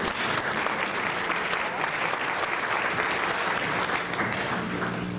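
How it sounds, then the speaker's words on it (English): A conference audience applauds a moderator with sustained, dense clapping that holds steady and fills the room for several seconds, with no voices standing out. "if we can give her a big round of applause for being our moderator today"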